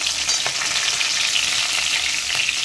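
Whole slit green chillies sizzle loudly in hot tempering oil while being gently stirred, giving a steady, close, hissing crackle with faint scrapes from the spoon and no talking.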